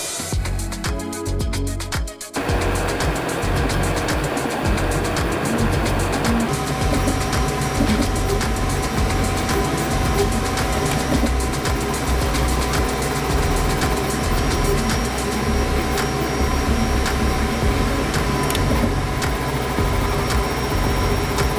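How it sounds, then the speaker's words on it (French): A 3D printer runs with a loud, constant mechanical whir and hum throughout, with buzzing motor tones and shifting pitches, close and uninterrupted. "Son seul défaut, malheureusement, comme vous pouvez le constater, est qu'elle est très bruyante."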